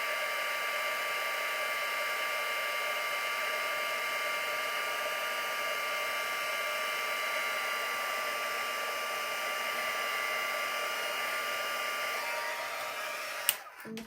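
A heat embossing tool blows hot air steadily and loudly over embossing powder on a handmade card, a constant whirring hiss with a faint tone that runs unbroken for the whole stretch before cutting off abruptly at the end.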